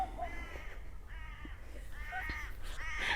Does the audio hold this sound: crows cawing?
yes